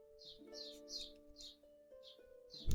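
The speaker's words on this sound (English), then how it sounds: "People are hearing the birds chirping" Birdsong sound effect playing under a tabletop role-playing session: bright, repeated high chirps in a steady rhythm at moderate volume over a faint sustained tonal drone.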